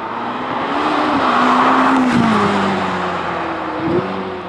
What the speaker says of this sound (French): C'est la première fois que je vois une voiture qui fait si peu de bruit.